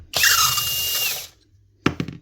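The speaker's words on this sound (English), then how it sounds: "And just take them out then with a drill." A power drill whirs loudly for about a second, winding down, then a few sharp knocks and clatters follow after a brief pause, during repair of a Bosch hammer drill.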